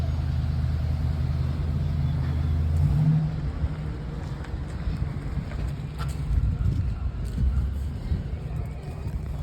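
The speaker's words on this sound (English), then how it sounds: "the garbage truck is here" A garbage truck arrives with its heavy diesel engine rumbling loudly nearby, and outdoor wind noise mixes in as it shifts and keeps running; a person talks briefly.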